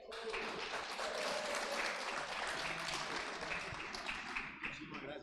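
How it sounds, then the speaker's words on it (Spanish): An audience at an agricultural seminar on Hass avocado cultivation in Abejorral claps steadily in close, lively applause that thins out toward the end, with some murmuring voices mixed in. "Andrés Esteban Puerta Lenis, de acá de Abejorral también. Un aplauso para él"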